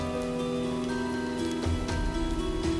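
Heavy rain falls steadily on a surface in a scene with a soaked, hungry man, a constant dense patter with a few louder drop hits, running alone without speech.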